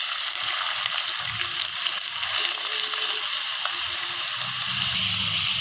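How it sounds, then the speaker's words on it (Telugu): Two thinly sliced onions fry in hot oil in a pan, giving a loud, steady broadband sizzle that holds evenly throughout without talk. "ఆయిల్ వేడైంది. 2 ఉల్లిపాయలు సన్నగా తరిగి పెట్టి వేస్తున్నాను."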